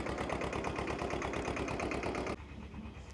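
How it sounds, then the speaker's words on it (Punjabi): A vintage 1965 tractor engine chugs in a fast, even mechanical rhythm close by at a tractor festival, then cuts to a quieter low running note for the final second. "ਤੇ ਪੂਰੀ ਟਰੈਕਟਰਾਂ ਦੀ ਆਵਾਜ਼ ਆਉਂਦੀ ਵੀ ਐ ਜਿਵੇਂ ਟਰੈਕਟਰ ਚੱਲਦਾ ਹੁੰਦਾ ਹੈ"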